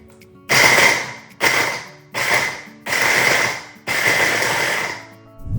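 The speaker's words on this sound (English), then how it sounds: "for now we're gonna be using this food processor" A food processor pulses as it chops vegetables into rice-sized pieces. Five loud, close bursts of whirring blade noise are separated by short pauses.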